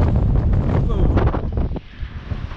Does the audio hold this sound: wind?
yes